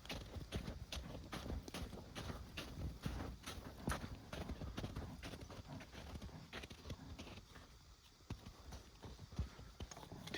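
A horse's hooves clip-clop in a steady, close rhythm across rough ground, continuous for about ten seconds with faint background noise.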